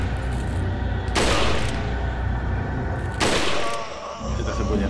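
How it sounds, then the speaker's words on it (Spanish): Rapid bursts of gunfire from the video game Resident Evil 4, two loud broadband volleys standing out over constant dense game sound and music, with a voice talking briefly in between. "Tres tiros para matar al mierda ese."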